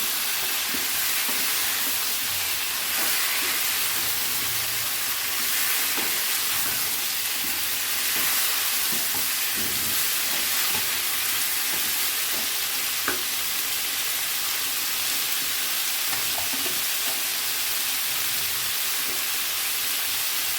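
Mixed winter vegetables frying in a pan, a loud continuous sizzle and hiss with occasional stirring scrapes and light clicks, close up and without talk throughout.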